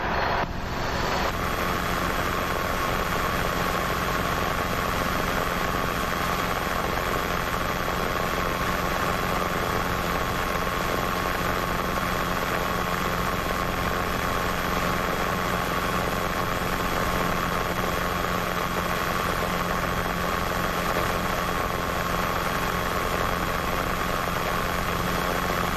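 A Robinson R22 helicopter in flight on a training check ride gives a loud, unbroken rotor and engine drone heard from inside the cabin, steady throughout with no talk.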